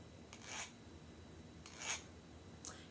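Three short dry rasps of a stick being rubbed, spaced about a second apart, faint and close by against a quiet background, with no talking.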